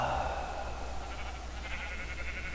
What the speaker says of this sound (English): Plenty of sheep, barely any cows.